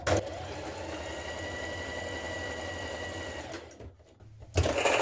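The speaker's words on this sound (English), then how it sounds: "Stitch sides of your sleeve ruffle together and make a narrow hem" A sewing machine runs steadily, stitching the sides of a dress sleeve ruffle together. The motor hums evenly and close for about four seconds, then drops away into a short pause before starting up again.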